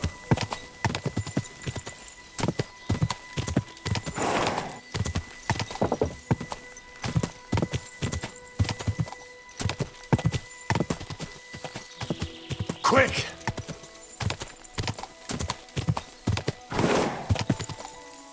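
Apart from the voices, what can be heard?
horse galloping and neighing in the video game Kingdom Come Deliverance 2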